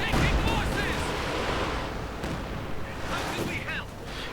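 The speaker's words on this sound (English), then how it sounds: "And another Katyusha barrage." A Katyusha rocket artillery barrage in a World War II strategy video game, a dense rumbling roar of launches and impacts rolling on for several seconds, with a voice speaking over it.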